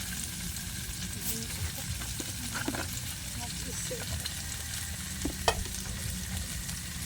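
Adobong kangkong with tofu frying in a pan, a steady low sizzle with occasional clinks and stirring scrapes of a utensil, faint and close, while people talk quietly in the background.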